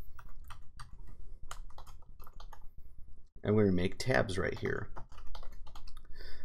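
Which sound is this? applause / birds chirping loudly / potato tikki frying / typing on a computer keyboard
typing on a computer keyboard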